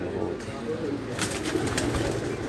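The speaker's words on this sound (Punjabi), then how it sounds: "ਇਹ ਜੀ ਪ੍ਰਵਾਜ਼ੀ ਕਬੂਤਰ ਨੇ ਜੀ।" Homing pigeons flown in tournaments, cooing in low, soft, continuous murmurs that overlap one another, with a faint background hubbub.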